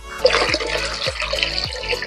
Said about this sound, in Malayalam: ഇത് നമുക്ക് ഒരു ബക്കറ്റിലേക്ക് ഒഴിച്ച് ഡൈല്യൂട്ട് ചെയ്തിട്ട് നമ്മുടെ ചെടികൾക്ക് ഒഴിച്ചു കൊടുക്കാം